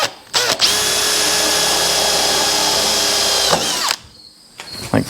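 A power drill bores a hole while installing a garage door, running loud and steady for about three seconds after a brief start, then winding down and stopping.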